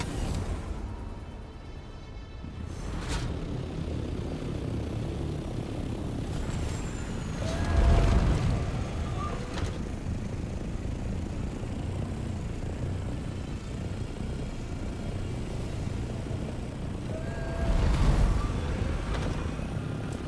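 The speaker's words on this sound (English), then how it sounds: "A large sandstorm is approaching." A large sandstorm approaches in the Dune video game as a continuous windy roar that swells twice into louder gusts before easing back.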